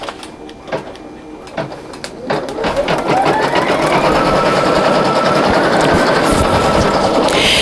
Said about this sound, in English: the first stitch that we're going to be doing is the knockdown stitch